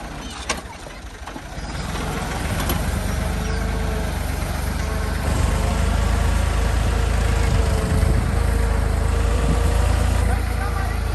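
A tractor idles in a rural Punjabi village, its steady, loud low rumble running unbroken throughout and swelling slightly after the first seconds, with faint voices mixed in underneath.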